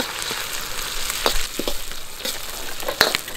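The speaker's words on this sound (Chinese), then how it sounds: "放入一小块的火锅底料炒化。" Hot pot base melting in hot oil with dried chilies, Sichuan peppercorns, scallion, ginger and garlic, a steady loud sizzle broken by scraping stirs of the spatula in the wok.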